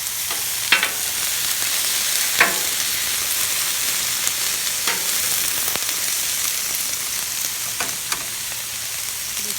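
Shrimp frying on a Blackstone flat-top griddle for lo mein give a steady, close broadband sizzle with a few sharp spatula scrapes and ticks scattered through it, and no one speaks.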